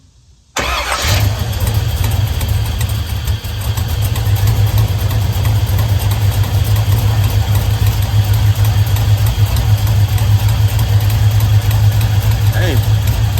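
A car engine cranks briefly and catches, then settles into a steady, loud low idle that runs on close by, with people talking over it.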